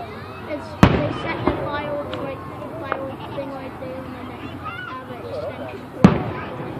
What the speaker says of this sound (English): the firework flames, pretty much the aftermath, is dying out before they can reach the ground